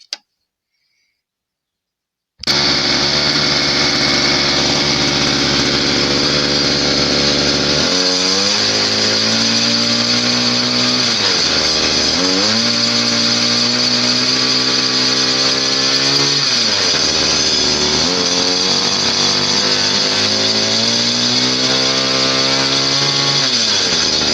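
A Forte MKB 25 Lux motor cultivator's small engine starts after a short silence and runs loud and close, with its pitch rising and falling repeatedly as the throttle is revved.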